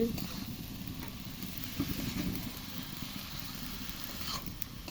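Bottle gourd fry being stirred in a pan over a blazing wood fire, giving a steady low sizzle with soft scraping strokes throughout, moderately quiet and close, with no talk.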